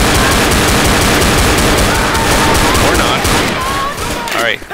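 Relentless close gunfire in Left 4 Dead, a dense continuous volley of rapid automatic shots that barely lets up for several seconds before trailing off with clattering.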